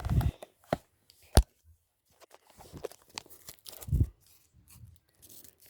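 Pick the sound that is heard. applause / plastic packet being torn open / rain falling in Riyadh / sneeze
plastic packet being torn open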